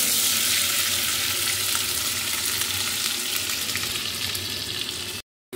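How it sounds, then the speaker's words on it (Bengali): Milk poured over fried cumin and asafoetida bubbles and sizzles in a hot pan while being stirred, a dense steady hiss up close, cutting off abruptly near the end. "এটাকে ভালো করে নেড়ে চেড়ে নিই।"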